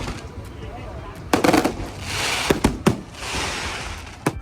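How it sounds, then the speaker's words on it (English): Distant fireworks at a truck show in Ciney, Belgium crackle and pop in scattered bursts, with a few sharper bangs standing out against a steady outdoor rumble. "I'm always thankful to finish the day with some fireworks"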